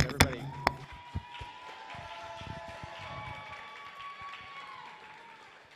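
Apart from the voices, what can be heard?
audience cheering and applauding the talent show acts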